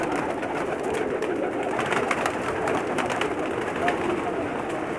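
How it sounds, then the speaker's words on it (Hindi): Teddy pigeons kept for sale in Jeddah, Saudi Arabia, cooing steadily in soft overlapping murmurs, fairly close, with a faint background hum. "ये सब टैडी कबूतर हैं जी,"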